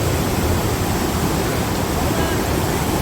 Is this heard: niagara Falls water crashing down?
yes